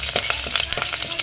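Green chili dropped into hot oil in a home kitchen, giving a close, loud, crackling sizzle with rapid popping bursts throughout.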